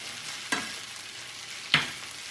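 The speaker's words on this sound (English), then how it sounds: "my potatoes are starting to become golden, so I'm going to go ahead and flip those" Freshly flipped hash brown potatoes fry in a pan, giving a soft continuous sizzle with two sharper bursts of crackle, close by and without talk.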